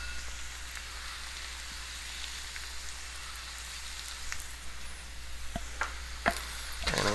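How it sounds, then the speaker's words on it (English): Coconut rice sizzling steadily as it stir-fries in a pan, with a low hum beneath and occasional scrapes and clinks of stirring growing more frequent near the end. "And I'm going to stir fry it."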